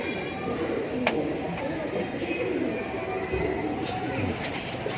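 Pigeons coo softly in a low, repeated murmur on a rooftop, with faint background voices and a few scattered knocks.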